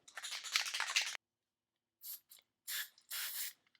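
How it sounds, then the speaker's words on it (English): Fluid Film sprayed onto the inside of a Vendo 56 Coca-Cola vending machine main door: a long, close hiss of about a second, then three shorter spray bursts after a pause. "Give it a shot of fluid film."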